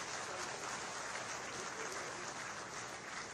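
Audience applause at the inauguration of the Health City expansion hospital in Lucknow: dense, steady clapping from a large crowd that fills the whole stretch at an even level.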